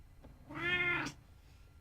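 A domestic cat gives a single clear, drawn-out meow of about half a second, close and alone over faint room noise.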